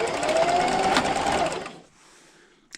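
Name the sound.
sewing machine sewing a straight stitch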